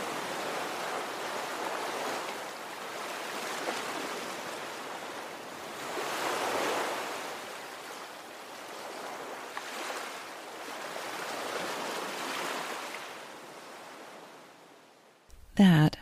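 Ocean waves wash onto a beach in slow rolling surges, a broad steady roar that swells and recedes several times, with a brief thump at the very end.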